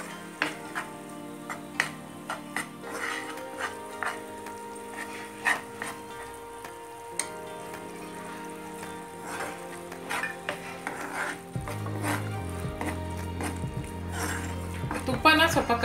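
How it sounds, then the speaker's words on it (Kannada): Gram flour roasting in ghee in a pan for besan laddu, with soft sizzling, scattered clinks and stirring scrapes running throughout, and a louder low rumble toward the end. "ಕಡಲೆ ಹಿಟ್ಟು ಹಾಕೊಳ್ಳೋಣ ಒಳ್ಳೆ ಗಮ್ ಅನ್ನೋ ತನಕ ಹುರಿಬೇಕು"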